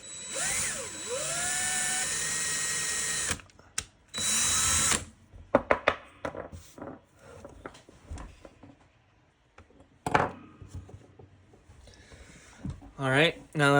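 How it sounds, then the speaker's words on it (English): A small power drill bores a hole into the top of a little hand-carved wooden Santa Claus, whining in bursts with pauses and handling noises between runs, close and fairly quiet. "I'm going to be drilling a hole into the top of them to make a hole for the string to go into"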